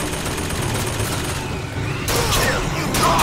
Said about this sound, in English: that sounds like another turret